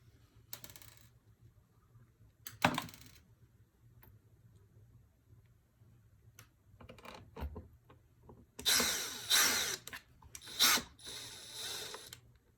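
Screws are driven into the mounting plate of an Ademco alarm console, heard as close ratcheting clicks and scraping bursts of metal turning, with small ticks and pauses between, no talk.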